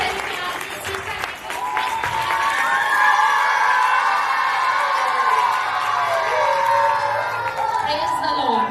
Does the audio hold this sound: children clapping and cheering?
yes